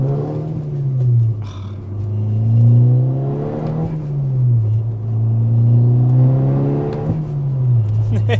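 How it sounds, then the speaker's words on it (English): Volkswagen MK6 Golf R with a Unitronic Stage 2 tune and aftermarket exhaust accelerating through gears, a loud close engine note sweeping up and dropping at each shift, about three pulls, with faint talk underneath. "this exhaust setup just sounds so good"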